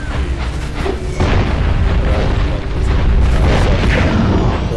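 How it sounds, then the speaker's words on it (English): Bombs exploding in the video game Jak 1, a dense run of loud, deep booms and bursts that keep rumbling for nearly five seconds with no talk over them. "It's kind of hard to gauge just how far the bombs are going to shoot."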